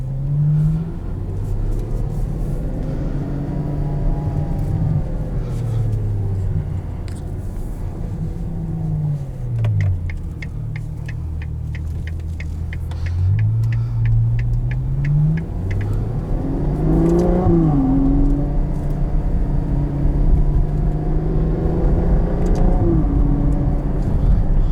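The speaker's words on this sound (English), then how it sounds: "Give it a little bit of gas to get going." A 2020 Ferrari GTC4Lusso V12 engine revs and climbs in pitch, drops back, then surges again, loud and close for the whole stretch with no talking.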